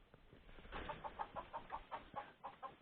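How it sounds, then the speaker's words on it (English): A chicken clucks in a steady run of about a dozen soft, evenly spaced notes, fairly close, on a homestead in freezing weather, with faint background noise. "Chickens are not the smartest animals in the world."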